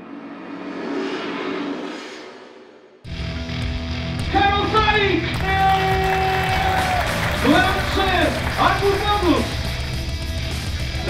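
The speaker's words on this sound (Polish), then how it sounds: "Wielkie brawa!" Stadium crowd at a Wigry Suwałki versus Stomil Olsztyn football match clapping and cheering, a faint roar before a louder wash of applause and crowd noise under an excited commentator's voice.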